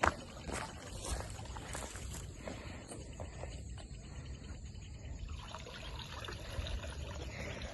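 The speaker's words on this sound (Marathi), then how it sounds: "सो गाईज आता आम्ही इथं पाणी भरतो. तेव्हा इथं पाणी भरलं चाललंय." Water is drawn from near Adai Waterfall for watering plants, with a faint, steady trickling and splashing under low outdoor background noise and a few scattered knocks.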